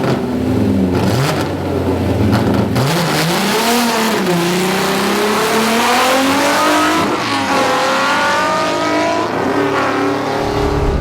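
Alfa Romeo Alfetta GTV6 2.5 V6 race car at the Magione circuit, engine loud and close as it climbs through the revs, dips on gear changes and winds up again in a rasping, rising howl.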